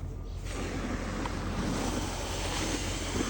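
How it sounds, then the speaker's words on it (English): Steady rushing roar of water gushing from a fire hydrant being flushed into landscaping, loud and continuous with a windy, noisy hiss throughout. "we are running our fire hydrant into some landscaping here"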